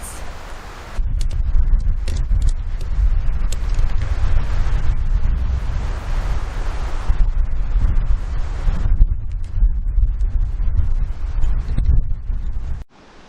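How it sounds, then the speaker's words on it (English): Strong, gusty wind buffets an open off-grid homestead site in Alaska, roaring steadily and loudly at the microphone for nearly the whole stretch before cutting off abruptly at the end. "the wind has really picked up"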